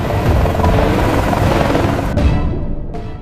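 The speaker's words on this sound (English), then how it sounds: "Overhead, the transport helicopter hovered, its rotors sending a deadly chill." A loud, steady roar of a hovering transport helicopter over the Arctic, with dense rotor thumping, fills the scene continuously, close and powerful, briefly dropping out near the end.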